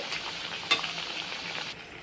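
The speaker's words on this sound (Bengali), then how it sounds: "আস্তে রেখেই ভেজে নিতে হবে উল্টে পাল্টে লাল লাল করে ভেজে নিতে হবে" Nimki pastries fry in oil on low heat, giving a steady close sizzle with a single brief stirring scrape partway through.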